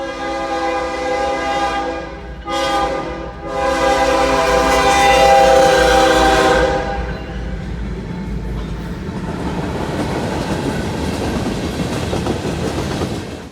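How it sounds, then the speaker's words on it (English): A mixed freight train led by a BNSF GEVO locomotive sounds its horn in several long blasts, then rumbles past with rolling wheel clatter and steady roar. "It's a mixed freight with a BNSF H2 GEVO leading"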